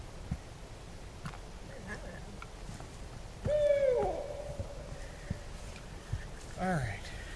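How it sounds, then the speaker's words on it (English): An owl calls once outdoors at night with a clear, wavering hoot that falls away. It sounds moderately far off, and people talk nearby through faint background hiss. "That was your great horned owl?"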